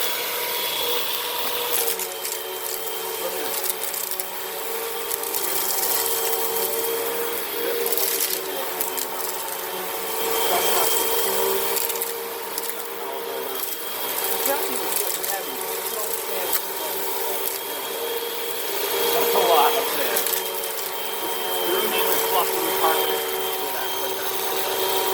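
A vacuum cleaner runs over sandy carpet on setting 3, a steady close motor whir with rising and falling surges as it moves, with a person talking over it.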